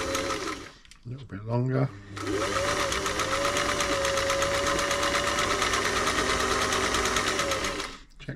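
A Singer 348 sewing machine runs a straight stitch, starting after a brief spoken remark and a few short whirs, then humming steadily at a fast, even motor pace for about six seconds before stopping.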